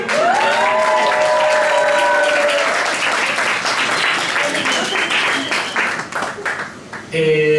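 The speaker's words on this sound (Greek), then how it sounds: "Οπότε ένα χειροκρότημα για τον Γιάννη!" Audience in a café bar applauds at a book presentation, a crowd clapping steadily with voices mixed in, fading near the end before a voice begins.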